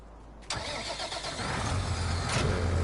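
A tractor engine in the farming video game Farming Simulator 19 starts with a sudden onset and settles into a steady mid-pitched running drone with a low rumble, continuous and fairly close.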